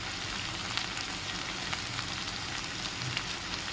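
Ivy gourd pieces sizzle and fry steadily in a pan, a continuous crackling hiss with small popping spatters throughout, close and fairly loud with no talking.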